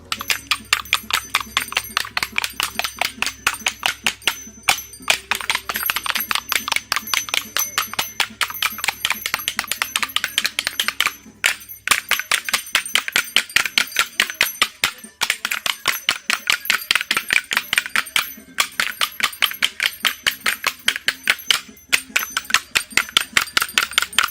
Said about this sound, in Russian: к ручке ложек прикрепили бубенцы или колокольчики, что делает звук существенно богаче